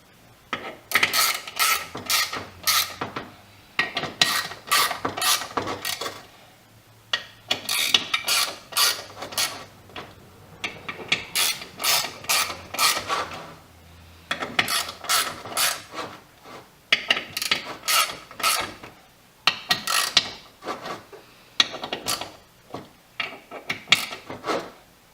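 A ratchet tightens bolts in a crisscross pattern to draw an input bearing into a 3000GT / Dodge Stealth transmission: close, crisp bursts of rapid clicking come in repeated runs with short pauses between, and no talk.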